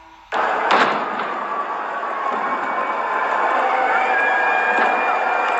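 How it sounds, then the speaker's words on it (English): Fireworks burst with a sudden loud bang, then a continuous crackling roar of explosions follows, with a few sharper pops rising above it. "the fireworks."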